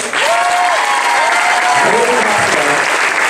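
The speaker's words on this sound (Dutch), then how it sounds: "Applaus!" An audience at a school group 8 musical claps for the painted stage set, a dense steady wash of applause with a voice speaking over it.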